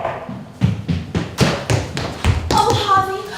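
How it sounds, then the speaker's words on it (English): Knocking at a door, a run of about eight evenly spaced hollow thuds, close and fairly loud, ending as a voice begins to speak. "there came a knock at the door"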